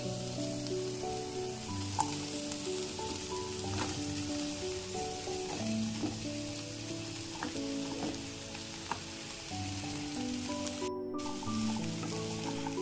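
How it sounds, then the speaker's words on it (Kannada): Mushrooms sauté in a hot pan for a mushroom samosa filling, making a soft, steady sizzle with faint crackles and a few light stirring clicks, heard close by with no talking. "ಮತ್ತು ಈಗ ಇದಕ್ಕೆ ಮುಶ್ರೂಮ್ನ ಸೇರಿಸ್ಕೊತಾ ಇದ್ದೀನಿ"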